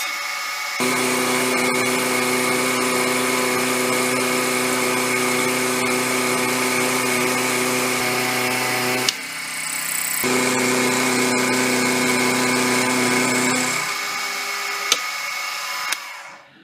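Milling machine cutting a Ford Model R axle, its motor and cutter humming steadily with a sustained tonal whine. A short break comes midway, then the cut resumes before winding down with a couple of clicks.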